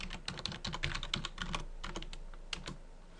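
Root password being typed on a computer keyboard: a quick, close run of light key clicks, evenly paced, over a faint steady background hum.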